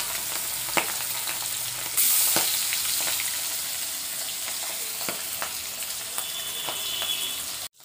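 Boal fish fries in very hot oil, a steady loud sizzle with sharp spattering pops scattered throughout, close up and with no voices.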